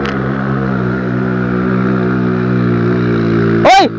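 A motorcycle engine drones steadily and loudly close by as it climbs uphill, holding a constant pitch before a brief sharp swooping burst near the end.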